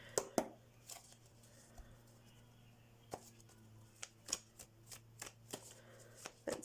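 Tarot cards shuffled and drawn during a card reading, giving a series of crisp, close riffling snaps and slaps with short quiet gaps in between, plus a steady low hum underneath.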